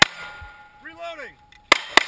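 A shotgun being reloaded with pink shells at a shooting audition: a short whistling tone fades, then two sharp, close metallic clicks land near the end.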